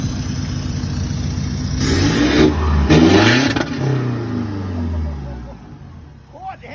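A car engine revs up sharply as the accelerator is pressed, rising in a couple of close, loud surges before settling back toward idle, with people talking over it.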